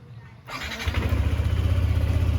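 A Yamaha Nmax 155 scooter engine cranks and catches, then settles into a steady, close idle with a rapid pulsing putter.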